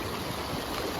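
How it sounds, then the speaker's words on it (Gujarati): A river flows from a nearby dam in the rain, giving a steady, dense rushing of water that holds at an even level throughout, with no break and no voices. "એમાંથી જ નદી આવે છે."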